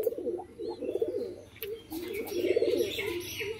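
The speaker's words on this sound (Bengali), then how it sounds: "খুবই সুন্দর গলা কামানো পায়রা রয়েছে।" Pigeons of a fancy neck-shaved breed, an adult breeding pair kept for sale, coo in low, throaty rolling bursts that repeat steadily and close by, with a few faint chirps over a quiet room.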